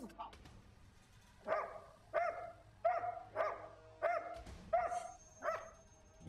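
A dog barks in a steady run of about seven sharp, evenly spaced barks, fairly close and loud against a quiet background.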